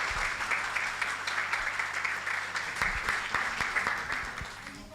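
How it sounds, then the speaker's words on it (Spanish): Applause from the audience at a provincial communication forum, a dense steady crackle of many hands clapping together that holds for the full stretch at moderate loudness, slightly thinning toward the end. "Un gran aplauso para los chicos"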